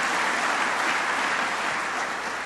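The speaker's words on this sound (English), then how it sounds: "Deserves a big round of applause." A large audience at MIT applauds during a presidential energy speech, a broad, sustained roar of clapping that stays steady and full throughout, heard alone.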